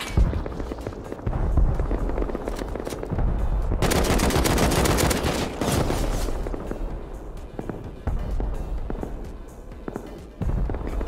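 Automatic AK rifle fire in a multiplayer PvP shooter game, rapid bursts of shots that build into a loud sustained stretch of gunfire near the middle, with scattered shots and footstep-like clatter around it.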